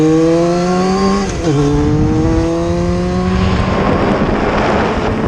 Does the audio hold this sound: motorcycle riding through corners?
yes